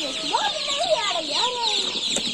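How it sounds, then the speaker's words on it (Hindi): Chickens on a farm where newly arrived chicks are kept, clucking and chirping busily close up, with layered overlapping calls throughout. "ये देखो चूजे सर, इसमें सारे चूजे इधर बैठे हुए हैं दोस्तों।"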